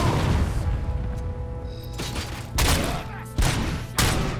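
Gunfire in Robocop: Rogue City, three or four loud, sharp shots spaced about a second apart over a dense, noisy game soundscape.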